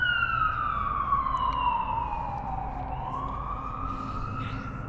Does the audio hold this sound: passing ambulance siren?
yes